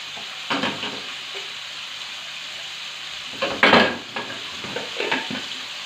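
Chicken gizzards frying in a pan with onions added, a steady close sizzle with a few louder stirring scrapes and clatters, the busiest burst around the middle, no talking.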